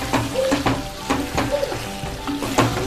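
Chicken pieces frying in oil in a pan after cooking nearly tender, giving a loud close sizzle with repeated scraping stir strokes and no talking.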